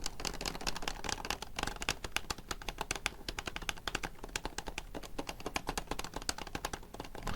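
Soft silicone fret buttons on a black CRKD guitar controller are tapped in a rapid, continuous patter, with dull, muffled thumps that sound a bit like fast typing. The taps are close and fairly loud, with no voices.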